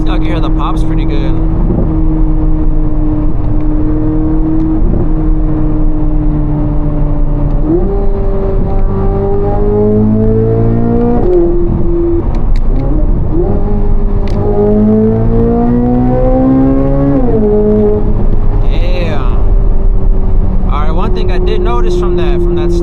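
A 2025 Corvette C8 Z06 with the Z07 package driven in track mode, its loud, close engine note rising in several pulls with abrupt gear shifts between them and a few sharp cracks, with talking over parts of it.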